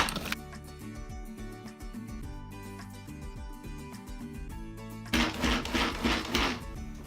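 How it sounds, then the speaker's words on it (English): A hand-powered manual food processor chops ingredients for artichoke dip, with rapid rattling, clicking blade turns near the microphone and a harsher grinding burst toward the end. "we're going to throw those into our manual food processor"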